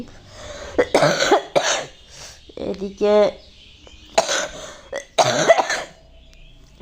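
An unwell woman coughs and clears her throat in a home in several harsh bursts, mixed with her brief speech, and a bird chirps faintly in the background.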